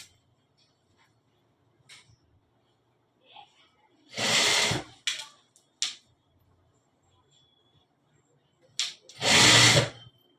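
A sewing machine stitches a pant zip in two loud bursts of rapid mechanical whirring a few seconds apart, with quiet clicks and fabric handling between them.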